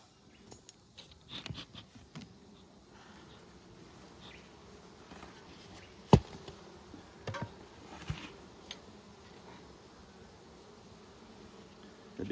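Honeybees buzz faintly around opened nucleus hives in Nymboida on a warm day, a soft steady hum with occasional louder passes as single bees fly close and a few light ticks and taps.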